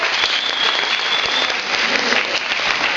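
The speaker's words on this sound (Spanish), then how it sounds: "Cristina Godínez Mendoza, para quien pido un fuerte aplauso" Steady, strong applause from an audience at a youth event, dense continuous clapping filling about three seconds with no voices over it.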